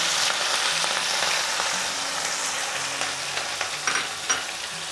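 Cumin seeds and chopped green chillies fry in hot oil with a bright, steady sizzle and crackle, close and continuous, with a few faint stirring clinks toward the end.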